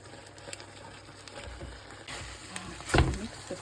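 Noodles go into a pasta sauce with wet, scraping stirs and soft sloshing, loudest in a brief burst near the end over faint background noise.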